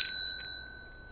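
A single bright bell ding rings out at the start and decays into a sustained tone, a clean notification chime standing alone with no voices.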